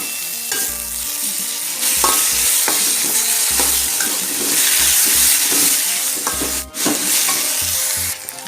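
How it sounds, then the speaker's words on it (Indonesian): Bay leaf, lime leaf, lemongrass, ginger and galangal sauté in a hot pan, a loud steady sizzle punctuated by repeated spatula stirring and scraping knocks. "Masukkan salam, daun jeruk, serai, sama jahe. Tumis sampai harum."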